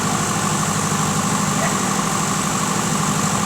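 Diesel generator running nearby, a loud, dense, unbroken engine drone with steady vibration and broad mechanical hiss throughout, no pauses or change in pitch.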